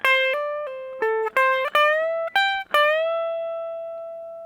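Solo guitar playing a pentatonic lick, clean single notes with several bent notes sliding up in pitch, ending on a long sustained bend that rings out and fades, close and clear with no talk.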